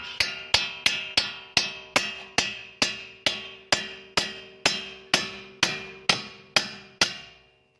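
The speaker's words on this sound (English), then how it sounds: "use a hammer to lightly tap it out of place." Steady metallic hammer taps on a bolt during front strut replacement on a 2008-2014 Dodge Journey, about sixteen evenly spaced ringing strikes on metal, each note decaying before the next, close and clear.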